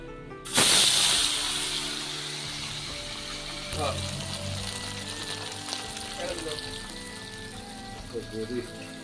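Salted, turmeric-coated stinging catfish drops into hot oil with a sudden loud hiss that settles into a steady crackling sizzle, close and continuous, with occasional spatters and kitchen clatter.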